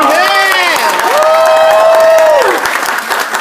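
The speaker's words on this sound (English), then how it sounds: "So how about another round of applause for Dr. Cabantog?" Loud audience applause and cheering at a business opportunity presentation, sustained for a few seconds with a high shout or whistle-like cry rising above the clapping.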